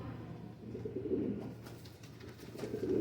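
Bajrai pigeon, a pure-bred bird of a breeder pair, cooing in low repeated murmurs close by, steady and alone with no talk.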